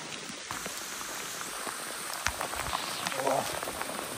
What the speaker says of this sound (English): The cloud we were in has brought rain.